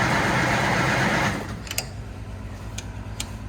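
A small engine on a frozen -3° morning sputters during a half-choked cold start, a rough rapid chatter for over a second that suddenly drops to a low, uneven idle with faint ticks and clicks.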